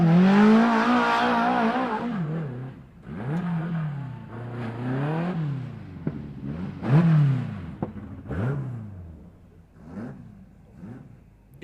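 Stock cars in the 1660s class race at an evening meeting, their engines repeatedly revving up and dropping off as cars pass close by, with brief bursts of acceleration and no talking.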